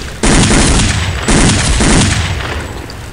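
Two loud, close bursts of automatic gunfire crack out in Counter-Strike: Condition Zero Deleted Scenes, each a rapid rattling volley, the second trailing off with a fading echo.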